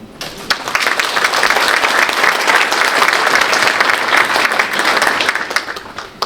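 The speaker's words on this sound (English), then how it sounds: "Please give yourselves a round of applause" A large audience at a conference opening ceremony breaks into loud, sustained applause, a thick continuous roar of clapping that swells and holds before easing slightly at the end.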